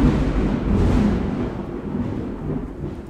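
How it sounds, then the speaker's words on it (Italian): Thunder in Minecraft SkyFactory 2.5, a loud deep rolling rumble that peaks early and slowly fades, with no voices. "Oddio, un altro tuono."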